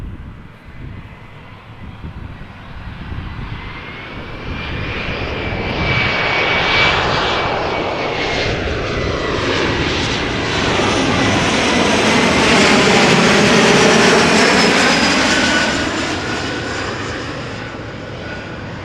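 A Ryanair Boeing 737-800 airliner passes at Amsterdam Schiphol, its engine roar swelling from a distance to a loud, sustained rush with a sweeping whine, then slowly fading as it moves off.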